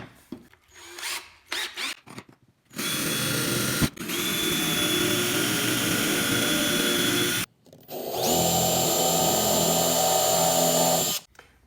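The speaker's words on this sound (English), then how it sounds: "we're going to drill 2 holes with this nail in this dowel right down through and through this as well" A power drill uses a nail as a bit to bore through a wooden dowel, whirring loudly in two sustained bursts of several seconds each, with brief handling noises before and between them.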